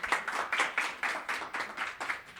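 An audience claps at an evening talk event, a fairly soft, close round of rhythmic hand claps with a quick steady pulse for a couple of seconds.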